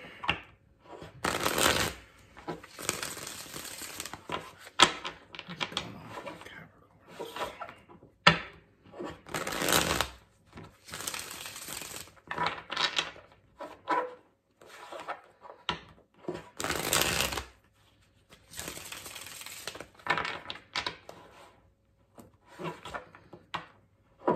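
Tarot cards being shuffled in repeated bursts of riffling and bridging, crisp and close, with brief pauses between shuffles and no talking.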